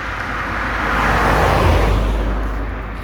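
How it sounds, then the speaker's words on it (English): Car passing on a narrow road at night, swelling from a distant approach to a loud close pass around the middle and fading away, alone without talk. "Car coming."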